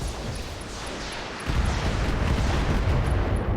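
Mech weapons in the RogueTech video game fire on a Panther: a dense, rumbling barrage of booms and blasts that swells louder about halfway through and keeps roaring to the end.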